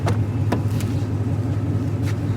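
Stock 2015 Ford Mustang 5.0 V8 heard from inside during a ride-along, a steady deep engine rumble and road drone with a few faint knocks, continuous and fairly loud.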